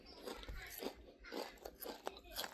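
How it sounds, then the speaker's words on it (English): Kettle-cooked cheesy buffalo dip potato chips crunch close to the mic, with a steady run of chewing bites about every half second, no talk over it. "With, of course, the Kettle crunch."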